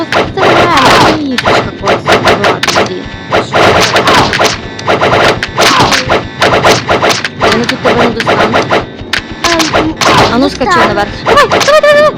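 Rapid bursts of gunfire in a Roblox game, loud and dense, with game music and effects layered over continuous play, and a voice talking throughout.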